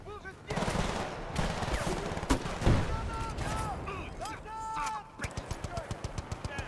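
Assault rifle gunfire in Battlefield Bad Company 2, dense bursts of shots and explosions mixed with battle noise and a voice. A quick run of separate rapid shots closes the clip.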